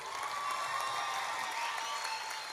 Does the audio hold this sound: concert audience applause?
yes